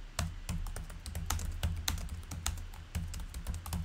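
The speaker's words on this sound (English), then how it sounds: "and then typing the name for that new device" A device name is typed on a computer keyboard as a quick run of close, crisp key clicks in an uneven rhythm, with no talking.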